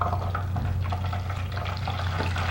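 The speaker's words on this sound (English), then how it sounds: "I'm just going to turn the fritters" Steady sizzling of fritters frying in a pan, a continuous crackling hiss with light clinks and stirring noises layered on top, close and fairly loud.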